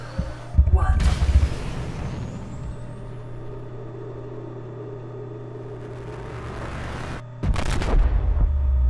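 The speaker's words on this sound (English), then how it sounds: "there's a fire explosion" The escape pod bursts into a fiery explosion in the video game Subnautica. A loud blast hits near the start and another near the end, with a steady low rumble between them.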